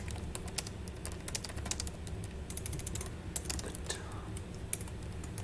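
Fingers tap steadily on a computer keyboard in quick, irregular bursts of soft clicks, close and fairly quiet over a low ambient hum, with no voices.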